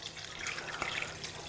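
Broth is poured from a container into a cooking pot for a potato and pork rib stew, giving a short liquid trickle and splash at moderate level with no talking.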